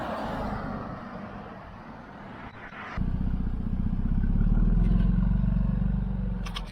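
A Jaguar F-Type V6 sports car pulls away, its engine rising from a steady idle to a louder, throaty roar at about three seconds that swells and holds as it drives off.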